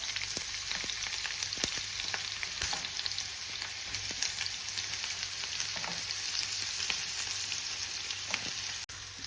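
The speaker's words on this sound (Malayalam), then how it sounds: "ഇതിലേക്ക് ഉള്ളി ഇട്ട് കൊടുക്കാം." Onions dropped into hot oil in a pan for masala puri, sizzling with a dense, steady crackle throughout, close up, with faint stirring taps and no talking.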